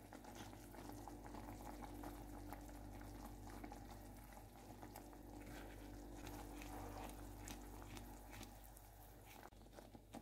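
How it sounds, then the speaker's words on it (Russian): Strawberries and sugar boil in a pot on the stove for a strawberry cake filling, a steady dense bubbling and simmering that stays loud and close throughout, with no voices. "Ягода закипела с сахаром"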